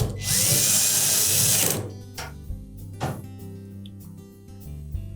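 A power drill whirs loudly for just under two seconds while driving a screw into a Samsung dryer panel, then stops, followed by a few faint clicks and taps of handling.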